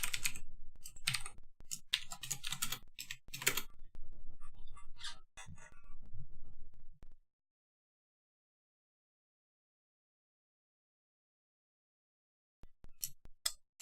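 Fast, irregular clatter of computer keyboard typing while coding a game in Game Maker Studio, close and crisp, stopping for a long silence before a short final burst of keystrokes.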